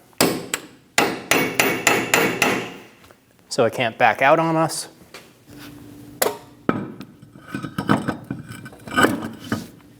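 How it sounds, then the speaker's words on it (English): A hammer drives a chisel to stake an axle nut on a 2008-2015 Scion xB, a quick run of sharp metallic strikes followed by scattered single blows, with a person talking in between. "Using a chisel and a hammer, we're going to stake our axle nut"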